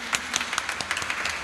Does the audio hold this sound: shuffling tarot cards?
no